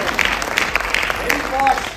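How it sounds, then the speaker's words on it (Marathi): Brief audience applause at a film trailer launch event, a burst of clapping heard under and around a voice speaking. "जोरदार टाळ्या व्हायला"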